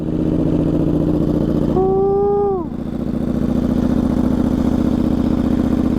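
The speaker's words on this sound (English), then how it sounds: "Nothing left to do but to give her a cold crank." A KTM 1390 Super Duke R with a Stage 2 flash idles loud and close after a cold start, a steady low throb broken by a brief rising-falling whine near the middle, then settling back to idle.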